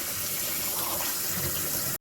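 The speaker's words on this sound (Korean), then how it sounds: "이렇게 물을 뿌려요." A continuous hiss of water spraying steadily, fairly close, ending abruptly.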